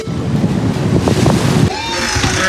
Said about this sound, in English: And the waves are breaking up massive.